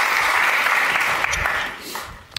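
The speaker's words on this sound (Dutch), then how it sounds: "Graag applaus voor Tom en Yannick." Audience applause for two guests at a Dutch talk show event at De Balie, a dense steady clapping from a crowd that tapers off toward the end.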